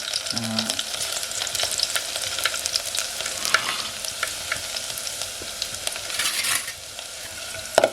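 Garlic dropped into hot oil for a quick tempering sizzles loudly up close with a dense crackle, while a spoon stirs and scrapes through it, fading slightly near the end before a final clink.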